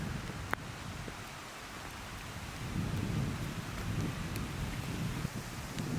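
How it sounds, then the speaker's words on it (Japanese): Steady rain falls at a campground near a lake, a continuous wash of drops with low rumbling underneath and a few sharp taps, no talking. "雨降ってきた"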